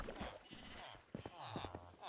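Sheep in the Minecraft video game bleating several times, with short wavering calls coming close together at moderate volume, interleaved with a person speaking.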